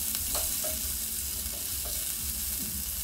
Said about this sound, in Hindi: अनियंस डालेंगे हम इसमें, अनियंस हल्के ब्राउन हो जाए